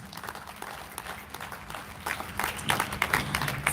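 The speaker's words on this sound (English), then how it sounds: "let's give EU a very loud round of applause" Audience at a human rights advocates celebration giving the EU a round of applause, a crowd clapping steadily and growing louder toward the end.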